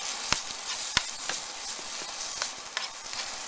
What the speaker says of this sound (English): in my little pan, I've got some garlic that I already started roasting